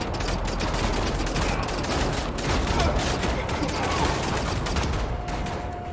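Dense, unbroken rapid firing of energy weapons in Wolfenstein The New Order, a steady loud barrage with no pauses across the whole stretch.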